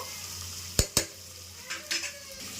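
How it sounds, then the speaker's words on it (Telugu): Tomatoes frying in a pan, a low sizzle with two quick sharp clacks of a utensil on the pan followed by a couple of softer scrapes, close and brief, no talking. "టమాటో కూడా వేసుకుంటున్నాం. టమాటో కొంచెం ఫ్రై అయితే చాలు."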